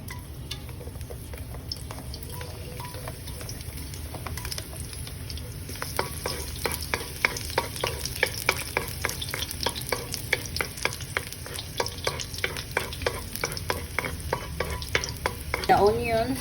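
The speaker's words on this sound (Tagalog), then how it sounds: "gonna cook stir-fry kamuti tops with oyster sauce" Camote tops stir-fry with pork, garlic, onions, tomatoes and oyster sauce in a hot pan, a close, continuous sizzle that grows busier with rapid rhythmic stirring and scraping halfway through, with no talking.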